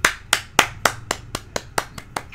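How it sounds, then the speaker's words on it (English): Slow, evenly spaced hand claps, about ten sharp claps in a row, close and clear with no talking. "Slow clap."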